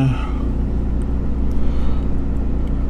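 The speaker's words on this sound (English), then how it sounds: "There we go, back in the car." Car driving along after a muddy countryside walk near Haltwhistle, a loud steady low engine and road rumble filling the cabin without a break.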